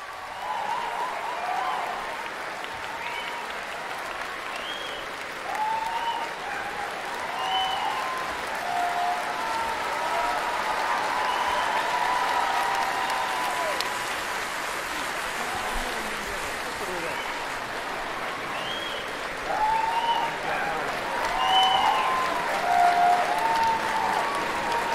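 An audience applauds steadily and roars at a stage show, a dense wash of clapping lasting throughout with brief whoops rising above it, moderately loud and continuous from start to end.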